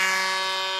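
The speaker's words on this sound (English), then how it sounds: "So that's the siren to end the reserves match" A siren sounds at a country football ground to end the reserves match in the Jervois versus Mypolonga league game, a steady sustained tone that holds loud and unbroken throughout.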